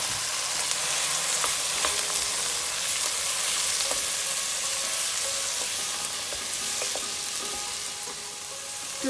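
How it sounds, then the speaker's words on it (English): Baby green peas stir-fry with spring onion in a hot pan for chilli garlic egg fried rice. A loud, dense sizzle stays steady throughout, with occasional crackles and light stirring scrapes close at hand. "I'm going to add half a cup of green peas"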